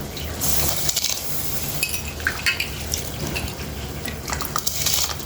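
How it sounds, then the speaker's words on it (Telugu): Water comes to a boil in a pot for rice on a home stove, giving a steady bubbling hiss with occasional light clinks of the pot, close and continuous. "ఎసరు మరిగే వరకు మంచిగా మరిగిపోయినాయి వాటరు"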